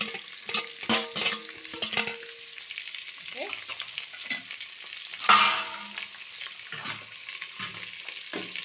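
Raw onion sizzles in a hot pan for Andhra-style sambar, with a steady crackling hiss and intermittent scraping stir strokes, close and moderately loud.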